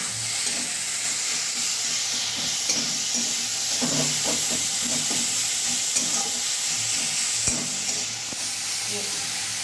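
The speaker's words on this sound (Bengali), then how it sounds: "এর উপর আমি এই পেস্টটা দিয়ে দিচ্ছি, কাঁচা লঙ্কা, আদা আর রসুনের পেস্টটা দিয়ে দিচ্ছি। এটা বেশি ভাজবো না, একটু লাড়াচাড়া করে" Green chilli, ginger and garlic paste sizzles steadily with tomato in a pan for brinjal, a continuous loud frying hiss broken by scraping stirs of a spoon, with soft music underneath.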